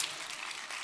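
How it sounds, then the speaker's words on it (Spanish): Brief audience applause during a church sermon, a soft, continuous patter of many hands clapping at a distance, lasting under a second. "No me aplaudan porque el chiste no es mío"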